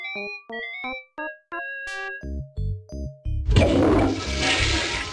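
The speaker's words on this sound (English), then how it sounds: "You really flushed them." A toilet in the adventure game Day of the Tentacle flushes after a short run of bright, plinking musical chime notes, ending in a loud gurgling rush of water.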